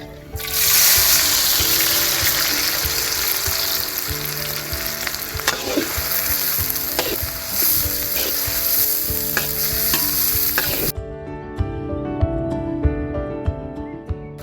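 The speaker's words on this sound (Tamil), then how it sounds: "வெங்காயத்தை போடுறோம்." Chopped onions dropped into hot oil for a village-style squid pepper fry, a loud dense sizzle with frequent stirring clatter, running steadily for about eleven seconds before dropping to quieter crackling.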